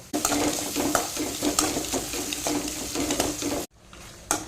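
Pasta being stirred in a pan with egg bhurji and Maggi masala, a spatula scraping and tapping in a steady rhythm over a soft sizzle, close and clear, ending abruptly with one last clink.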